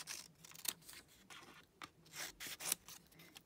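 Scissors snip through folded paper fraction strips in a quiet room, a series of short crisp cuts and rustles at an uneven rhythm, close and fairly soft.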